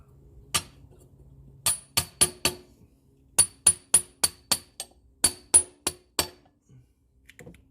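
Sharp metallic taps of a hammer striking a punch to bend a bolt tab during a Banks twin ram intake install on a 12-valve Cummins Dodge 2500, about fourteen bright clinks in uneven clusters, close and fairly quiet.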